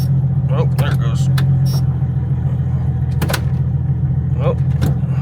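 Jeep XJ driving after being repaired from a rollover, a loud steady low engine and road rumble inside the cab with a few short knocks and clunks, as a person talks.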